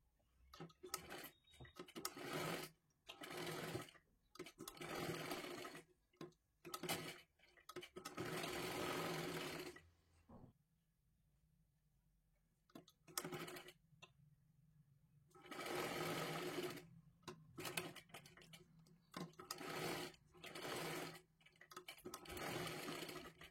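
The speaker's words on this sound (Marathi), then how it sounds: "आता इथे पूर्ण आपल्याला शिलाई मारून घ्यायची आहे." A sewing machine stitches a 32-size princess blouse in repeated bursts of steady whirring, pausing briefly between runs and falling silent for a few seconds midway, close and moderately loud with no talk.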